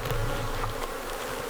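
Honeybees buzz at an open, honey-filled hive on a farm, a dense, continuous hum of many insects heard close and alone.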